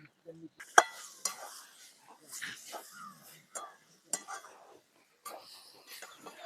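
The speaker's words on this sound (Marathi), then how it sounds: "त्याच्यात हळद टाकायची थोडं हलवून घ्यायचं" A spoon stirs turmeric into a cooking mixture in a pan, making a few soft scrapes and clicks that come and go under quiet talking.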